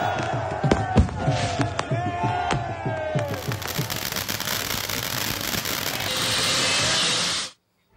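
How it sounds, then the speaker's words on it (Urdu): Fireworks set off by party workers celebrating a by-election win, a rapid run of sharp bangs and crackles in the open, followed by a dense roaring fizz, with crowd noise and shouting around it. "آتش بازی بھی کی"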